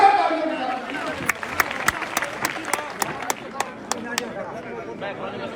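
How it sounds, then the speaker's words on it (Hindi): At a large election campaign rally in Rajasthan, a crowd claps under an announcer's voice at first, then the applause thins into a run of sharp, distinct claps spaced about every quarter second. "जोरदार तालियों के साथ।"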